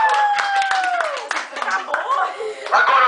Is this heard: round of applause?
yes